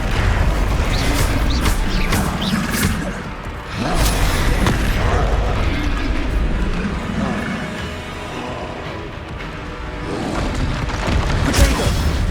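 The Incendio fire spell is cast in Hogwarts Legacy amid loud, dense combat effects: booming bursts, crashing impacts and mechanical creaks that swell and ebb with no speech.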